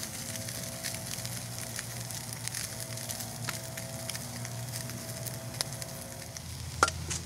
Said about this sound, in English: I'm gonna go ahead and fry up the other half a pound.